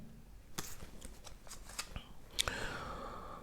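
Tarot cards are shuffled and drawn in soft, quick riffles and snaps, a few separate flicks and slides close up with no talking.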